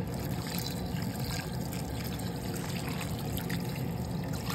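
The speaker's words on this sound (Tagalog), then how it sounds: "Lagyan ko siya ng tubig. Lagyan natin ng tubig." Water pours and trickles steadily into a pot of pork ribs for soup, a soft continuous splashing close by.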